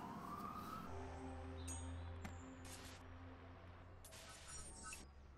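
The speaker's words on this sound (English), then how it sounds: "Stupid fucking ambulance confused me." Ambulance siren in the video game Watch Dogs, a steady wailing tone sounding throughout at moderate loudness over a low engine drone and other game ambience.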